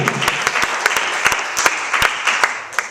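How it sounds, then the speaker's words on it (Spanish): A church congregation applauds during a Spanish-language sermon, a moderate crowd clapping with several sharp, distinct claps popping out above the steady patter. "Dale ese fuerte aplauso a su gloria, querido hermano."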